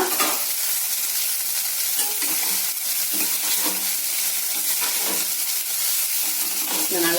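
Fried vermicelli being mixed in a pan sizzles continuously and fairly loudly, with repeated soft scraping strokes of a spoon throughout.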